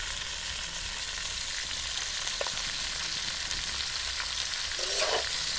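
Cauliflower fries with salt and turmeric in a pan, a dense, steady sizzle that stays close and even throughout, with a brief stirring scrape near the end and no speech.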